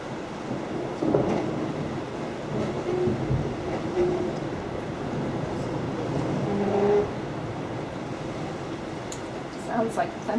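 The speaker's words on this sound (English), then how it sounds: "I'm still getting more calving right there in that same spot." Glacier ice calving at Hubbard Glacier, Alaska, heard as a low, distant rumble like thunder, with a rolling swell near the middle and brief crackles toward the end, under faint talk.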